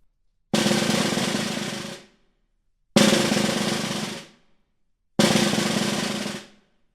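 Three separate snare drum buzz rolls, each a sustained rattling press that ends abruptly with a final note, with short silences between them.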